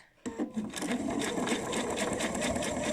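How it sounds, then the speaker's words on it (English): A sewing machine stitches a fabric bowl cosy, starting after a brief quiet moment and then running with a close, steady, rapid whir. "And now I'm just going to stitch it the whole way along"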